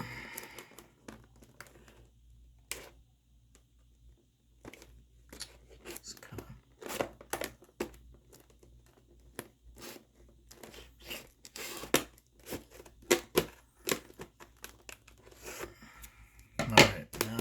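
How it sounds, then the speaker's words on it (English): Tough plastic packaging on a Samsung phone box is cut and torn open, giving faint, sporadic crinkles, snips and sharp tearing crackles that build into louder rips near the end. "It's a little tough to cut open this part here. Maybe I just rip the rest off."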